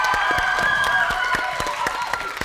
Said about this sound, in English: A round of applause for the yellow team.